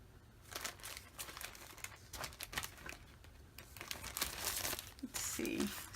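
Illustrated Faith paper is handled for a travelers notebook dashboard, giving repeated close crinkles and rustles in irregular bursts that grow busier toward the end.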